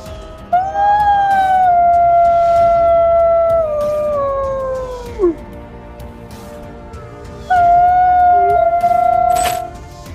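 A gray wolf howls in two long, clear, wavering calls separated by a short pause. Each call is loud and drawn out, with the pitch sliding downward, and no one talks over it.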